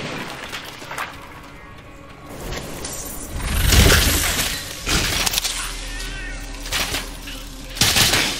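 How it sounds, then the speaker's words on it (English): Pet cat companion meowing while attacking in the video game Torchlight 3, short meows mixed with combat hits, crashes and game effects, loud and busy throughout. "Love watching my kitty attack people."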